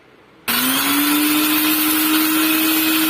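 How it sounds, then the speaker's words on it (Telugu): Electric mixer grinder starting abruptly and running at a steady high whine, grinding roasted red chillies with salt for kandi podi; loud, continuous and alone. "ఇక మిక్సీలో ముందు మిరపకాయలు వేస్తున్నానండి"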